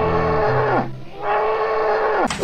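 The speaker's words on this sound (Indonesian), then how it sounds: "kalau yang ini namanya kerbau loh teman-teman" Water buffalo in a Jurassic World Evolution 2 style animal game gives two drawn-out, loud bellowing moos, the second starting after a brief pause and cut off by a sharper sound at the end.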